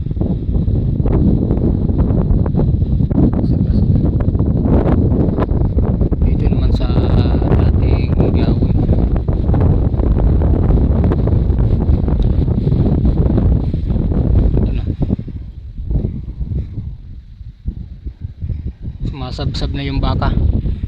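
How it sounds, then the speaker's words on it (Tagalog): Strong wind buffets the microphone in a loud, rumbling roar that barely lets up, with a voice speaking faintly beneath it, in the countryside while cattle graze. "Sabi lakas ng hangin dito makasarlas. Lakas ng hangin."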